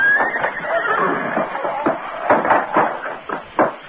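A horse in a stable gives a loud, close whinny that rises and wavers, followed by shorter snorting bursts and knocks like hooves.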